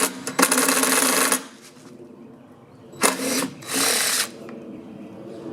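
A power drill whirs in two loud bursts, about a second each with a pause between, backing screws out of the recoil starter on a Stihl 4-Mix engine; a short quieter whir trails the second burst, close and clear.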